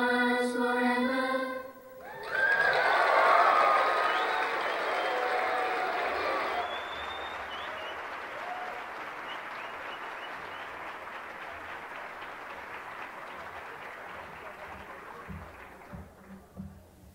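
Audience applause at a world congress of Lasallian education swells in after a sung or musical ending, loud at first, then settling into a long, steady, softer patter of clapping that fades near the end.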